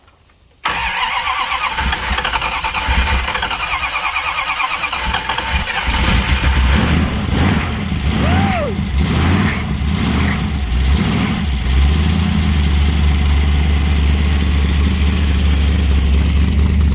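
A 1966 Dodge Dart's big-cam 273 V8 cranks and fires after a brief silence, then settles into a loud, steady, lumpy idle close up, with a slight rev partway through.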